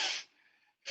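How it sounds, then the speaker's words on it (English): Deep, full breath drawn in during a guided wellness breathing exercise, a loud airy inhale that tapers off, followed by a brief pause and the start of another strong breath. "I'm completely breathing in"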